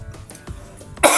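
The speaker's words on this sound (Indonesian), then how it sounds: "saya lagi batuk ya" A man coughs a few times in quick, short bursts, close and fairly loud indoors, ending in a harsher, rougher cough.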